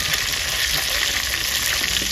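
Pieces of tilapia sizzling in hot oil in a pan, a continuous close crackling hiss with a few small pops and no voices over it.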